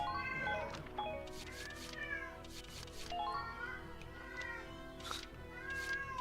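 Cat in the video game Valkyria Chronicles 4 meowing repeatedly, a run of high, drawn-out mewing calls in quick succession, fairly faint and close with no talking.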